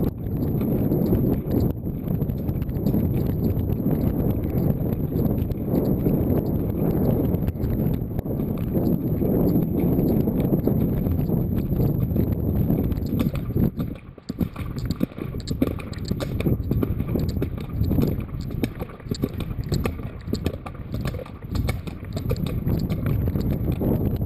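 A horse cantering, hooves striking the ground in a steady three-beat clip-clop rhythm at moderate distance, continuing throughout with no voices.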